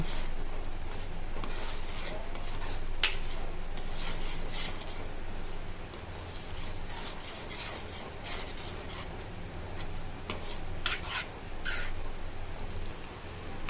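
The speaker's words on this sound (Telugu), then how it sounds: "ఒక టేబుల్ స్పూన్ పసుపు యాడ్ చేశాను బాగా కలుపుకోవాలి" A spoon scrapes and rubs through a thick tomato curry in a pan after a tablespoon of turmeric goes in, a steady close rasping stir with a few sharper clinks over low background hiss.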